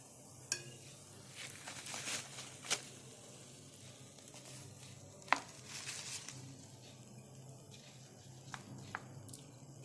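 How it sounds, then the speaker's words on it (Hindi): Sabudana vada frying in hot oil, a steady soft sizzle with occasional louder crackles and a few clinks of a utensil, close and continuous without speech. "दूसरा साबूदाना वड़ा डालेंगे। दूसरी बाजू तल लेंगे।"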